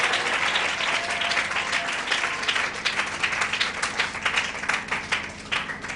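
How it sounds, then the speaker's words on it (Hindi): A church congregation claps loudly and energetically in thanks, a thick, close wash of many hands that swells into sharper rhythmic bursts. "जोरदार ताली बजाकर वो भरपूर जीवन के लिए, वो भरपूर आशीष के लिए हम परमेश्वर को धन्यवाद करें"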